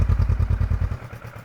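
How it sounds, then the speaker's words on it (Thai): A 2017 Kawasaki Versys 650 motorcycle engine runs close by, a low rhythmic thumping pulse that is steady at first and then softens slightly. "ฟังเสียงเครื่อง"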